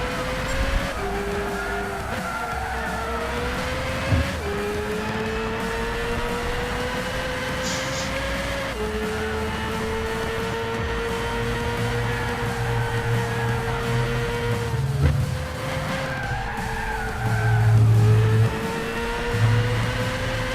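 Racing engines in Gran Turismo 6, a NASCAR among prototype race cars, drone continuously with rising and dipping pitch as gears shift, accompanied by brief low tire or skid rumbles and no talk.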